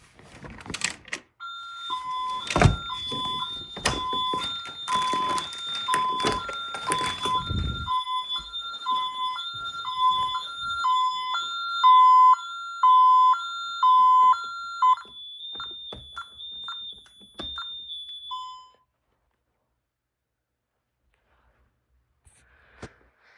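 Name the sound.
Honeywell Vista 15P alarm system going off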